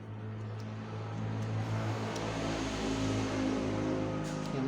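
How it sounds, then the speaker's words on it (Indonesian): Continuous low rumble of car traffic on a roadside street, a broad steady drone that swells slightly as vehicles pass, heard from indoors with no voices. "pinggir jalan jadi suara mobil banyak"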